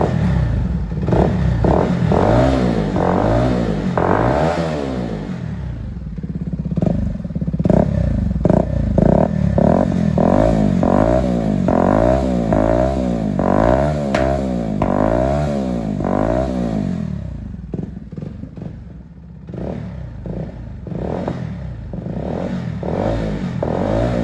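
A CF Moto 300SR motorcycle fitted with an upgraded deep bass exhaust revs repeatedly, loud and close, its engine note rising and falling in rhythmic surges with no talking.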